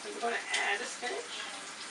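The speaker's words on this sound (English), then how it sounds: "I'm going to add the spinach." Spinach is added to a hot pan and gives a soft, close sizzle and frying crackle, with faint speech mixed in.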